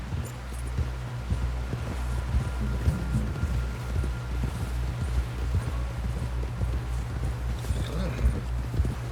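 Horse hooves clip-clop steadily at a gallop in Red Dead Redemption 2, a continuous rapid rhythm close by, with no talk over it.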